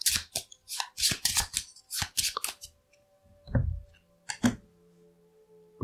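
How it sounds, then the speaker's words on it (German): Patrol cards being shuffled during a Maquis board game: a few quick bursts of riffling and card snaps, close and fairly quiet, followed by scattered soft taps and handling noises with pauses between. "Und dann die Patrouillenkarten wieder mischen."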